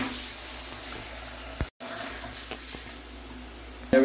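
Water runs steadily down a freshly unclogged shower drain, a constant broadband wash of flow with a brief dropout and a few small knocks near the end.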